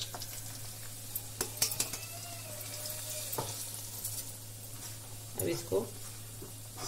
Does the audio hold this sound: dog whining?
no